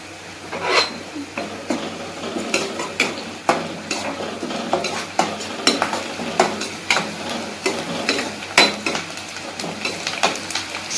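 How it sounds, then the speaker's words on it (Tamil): Dried chili and curry leaves fry and get stirred in a pan while cooking banana flower, with repeated scraping and clinking strokes of a spoon over a steady sizzle, close and moderately loud, no voices. "இப்போ வாங்க ஒரு மிளகாய் போட்டுக்கலாம். கொஞ்சம் கருவேப்பிலை,"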